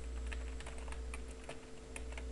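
Light typing on a computer keyboard during a Korean computer lesson, a string of soft, uneven key clicks over a steady background hum.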